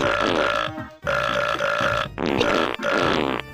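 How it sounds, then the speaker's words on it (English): Several loud, drawn-out burps in quick succession, close and exaggerated, separated by short pauses; a burping sound effect from a video game cheat. "the cheats that you enter make farting and burping noises"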